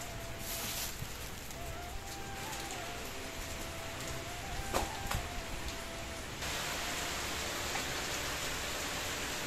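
Heavy rain falls in a steady broadband wash on a rooftop, continuous throughout, with a slight rise in intensity toward the end and a faint tonal hum underneath.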